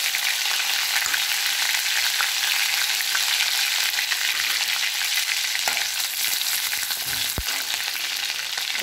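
Curry leaves and green chillies sizzle steadily in hot oil for samba rava upma, a dense, continuous frying hiss at close range with no talk, broken only by a brief sharp crackle near the end.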